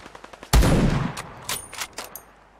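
Gunfire in Fallout 4 with the Sim Settlements 2 mod opens with one sharp, loud shot and a decaying boom, then several quicker, fainter shots crackle in an irregular burst.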